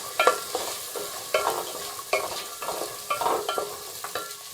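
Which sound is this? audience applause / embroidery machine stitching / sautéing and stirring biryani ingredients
sautéing and stirring biryani ingredients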